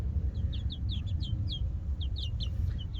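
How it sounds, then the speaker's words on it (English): Young laughing rooster chicks, an Indonesian chicken breed, give a quick series of high chirps over a steady low rumble of background noise. "I have a bunch of laughing roosters in my flock here."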